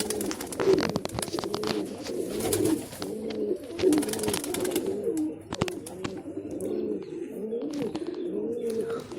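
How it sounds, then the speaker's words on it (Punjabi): Female pigeons coo continuously in overlapping low, throaty phrases, close and steady, with occasional sharp clicks and rustles from movement in between. "ਕਬੂਤਰੀਆਂ ਉੱਡੀ ਜਾਂਦੀਆਂ"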